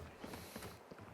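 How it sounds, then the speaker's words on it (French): Weapon reload in the tactical shooter Valorant: quick mechanical clicks and a metallic creak of a magazine swap, a few sharp clacks in a short burst at close range, with no voices over it. "Je recharge."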